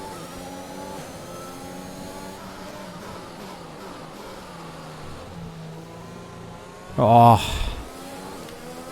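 An F1 2021 race car engine drones steadily in a wet race at the Azerbaijan Grand Prix in the video game, its pitch rising and falling, then a loud, brief burst near the end along with a short exclamation.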